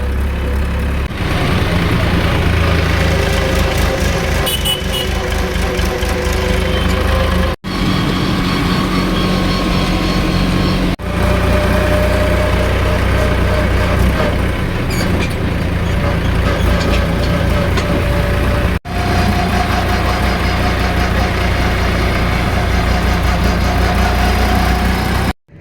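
A small farm tractor engine drones steadily while pulling a loaded trolley on a road at dusk, its mid-pitched chug continuous and close apart from a few brief dropouts.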